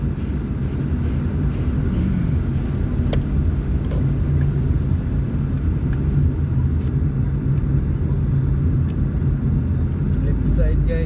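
Traffic on a road toward Banilad and Talamban heard from inside a moving car: a steady low engine and road rumble runs throughout while a person talks over it.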